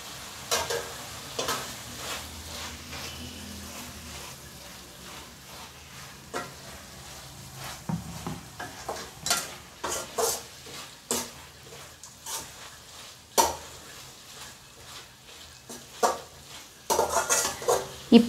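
Chicken sautéing in a pan for chicken semiya biryani, with a faint sizzle under repeated scraping stirs and sharp clinks of a utensil against the pan that grow busier and louder toward the end.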